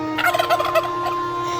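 A turkey gobbles in a quick rattling burst, a bright warbling call lasting about a second over a steady background hum, used as a sound effect in a children's musical storytelling piece.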